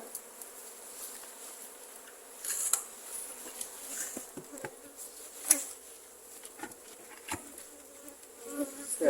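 Honeybees buzz around a hive during beekeeping work, a steady faint drone with small bees passing close now and then, with no speech.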